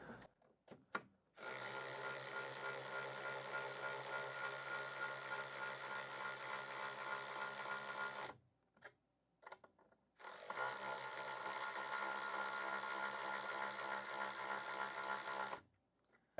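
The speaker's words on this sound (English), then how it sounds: "I'm going to tighten them down with the Ryobi" A Ryobi USB 1/4-inch electric ratchet tightening screws, whirring in two sustained bursts of several seconds each, separated by brief clicks and pauses, close and steady.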